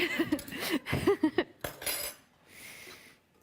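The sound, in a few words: spoons being taken out of clear bowls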